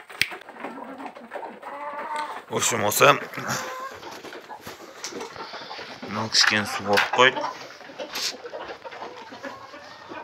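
Chickens clucking in a backyard coop where water is being refilled, bursts of calls rising in the middle and again later, close by, with someone talking over them throughout.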